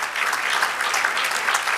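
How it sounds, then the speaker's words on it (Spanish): A church congregation applauds during a service, a brief, even burst of clapping from many hands at moderate loudness. "Démosle un aplauso grande a nuestro Dios."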